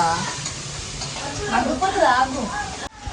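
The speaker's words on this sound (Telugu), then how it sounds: "టమాటో కూడా యాడ్ చేసుకోవాలి" Tomato frying in a pan gives a steady close sizzle with stirring scrapes, partly covered by a voice talking throughout, ending in a brief cut near the end.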